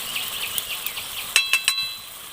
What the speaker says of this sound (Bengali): তো ভালো করে একবার নেড়ে দেবো